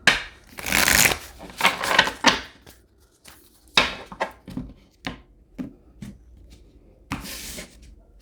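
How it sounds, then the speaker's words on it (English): Tarot cards shuffled by hand during a reading, giving a series of quick papery riffling bursts of uneven length, close and fairly loud, separated by short pauses. "one more shuffle"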